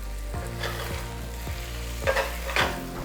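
Salt being stirred into paneer in a hot pan: steady sizzling under a series of rhythmic spoon scrapes, about five strokes, the last two louder, close and without voices.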